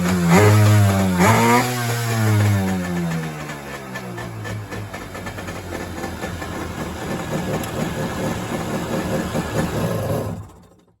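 A 1992 Kawasaki 650SX jet ski engine cranks and catches, then runs loudly and steadily at a rough idle for about ten seconds before cutting off.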